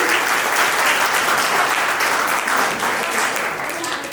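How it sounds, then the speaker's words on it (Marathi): A crowd gives loud, sustained applause for a girl at a birthday celebration, steady clapping for about four seconds that eases off slightly at the end. "एकदा जोरदार टाळ्या तिच्यासाठी"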